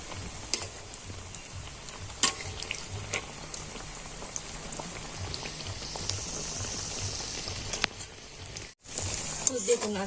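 Steady crackling sizzle of bread-based snacks frying in hot oil, close up, with occasional louder pops and clicks and no voices.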